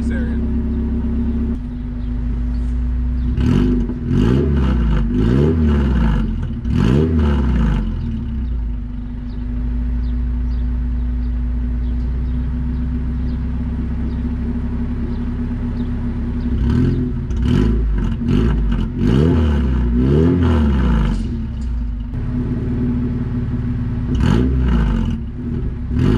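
A car engine with a faulty header check valve idles with a steady low rumble, then revs up sharply in bursts, rising and falling several times, loud and close.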